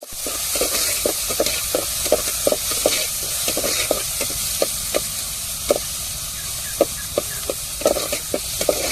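Crushed garlic sizzles and crackles steadily in a hot pan, with repeated sharp clicks of stirring against the metal, close up and without talk.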